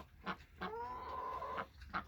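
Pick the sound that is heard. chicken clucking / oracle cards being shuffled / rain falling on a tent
chicken clucking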